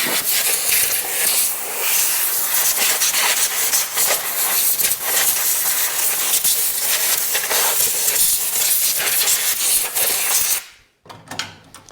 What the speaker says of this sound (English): I like to blow out and clean out the air filter area